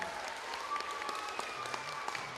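Audience applause at a gymnastics award ceremony, a continuous soft wash of clapping from a crowd, fairly distant and even, with faint tonal background sounds underneath.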